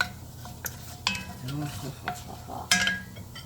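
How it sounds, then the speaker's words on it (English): Cumin and aromatics frying in a pan for turkey kofta curry, with a soft sizzle and several sharp scrapes and clinks from stirring, close and fairly quiet. "You're gonna put all your aromatics in, and you want to fry it. I'm gonna fry that first so we could smell the nice cumin."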